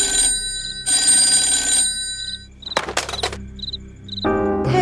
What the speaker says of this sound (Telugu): ఆయన కోసం ఫోన్ చేస్తా